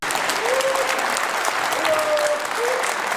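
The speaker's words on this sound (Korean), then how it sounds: "박수 한번 부탁드립니다." An audience of ethnic Korean residents in China applauds a speech at a meeting with the South Korean president, a loud burst of clapping that holds steady for about three seconds.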